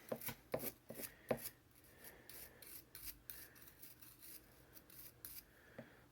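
Brass brush scrubbing rust off a Benchmade 943 butterfly knife, close and fairly faint, with sharp scraping strokes clustered at the start and a softer steady rubbing after, ending in one more stroke.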